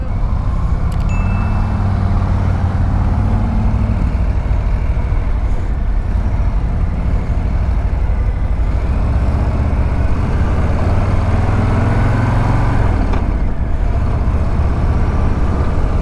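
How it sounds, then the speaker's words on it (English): A 2024 Harley-Davidson Low Rider ST motorcycle engine rumbling loud and close, a deep continuous drone with slight swells in revs throughout, no speech. "Today we are going to be riding the Lowrider ST."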